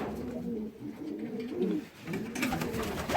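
Young pigeons in a loft give soft, low, repeated cooing phrases that roll on steadily for several seconds, close by and with no voices over them.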